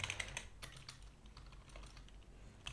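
Rapid, irregular clicks of someone typing code on a computer keyboard during a programming session, steady and fairly close, with no voices.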